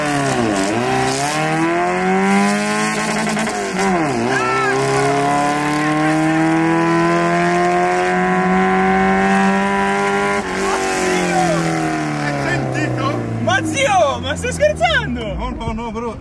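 A modified Suzuki Samurai's high-revving engine sweeps up and down in pitch for a long stretch during a launch, loud and close, with tire noise and crackles near the end.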